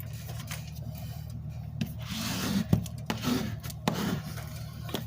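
Chipboard pieces being burnished down for a mini album, a steady close rubbing and scraping with several sharp strokes and knocks, moderately loud and without talk.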